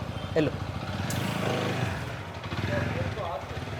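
A motorcycle with a nail deliberately pushed into its tyre and treated with puncture sealant rides off, its mid-pitched engine note steady and moderately close throughout the short stretch, with no one speaking.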